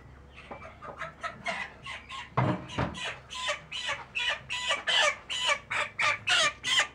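Pullet chickens cluck in a steady run of short repeated calls, close by and fairly loud, with no talking.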